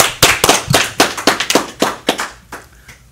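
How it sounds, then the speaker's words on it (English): An audience applauds the Wire team, Kiki and Kim, with a short burst of sharp, uneven claps that peaks loudly and then thins out over about three seconds, with no talking. "I want to give a big round of applause to the Wire team"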